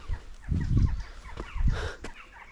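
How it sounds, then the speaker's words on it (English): Fowl cluck and call near Roslin Glen at sunrise, a few close, low, throaty bursts over about two seconds with a brief sharper call near the end. "The birds are singing me away."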